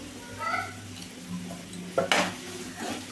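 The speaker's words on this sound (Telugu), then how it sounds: "కొంచెం లైట్గా సాల్ట్ వేసుకొని వేయించుకోవాలండి" Eggs frying lightly salted in a pan for an egg masala curry, a soft sizzle under scraping and stirring with a brief metallic clatter, close by.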